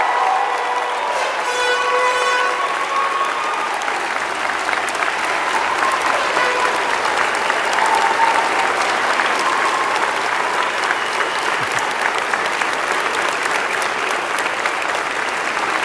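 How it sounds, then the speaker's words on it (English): Friends and family applaud a graduating class at a university spring convocation ceremony, a sustained steady roar of clapping from a large crowd filling the whole stretch with some cheering mixed in. "I ask your friends and family to join me in applauding the amazing graduating class"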